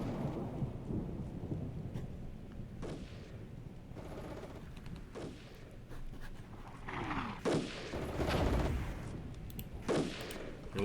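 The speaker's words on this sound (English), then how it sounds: "Looks like we got a storm over here." Thunder rumbles and cracks through a steady rain in Armored Brigade, with booming strikes rolling in at intervals and a sharper, louder burst of thunder near the end over a constant wash of rainfall.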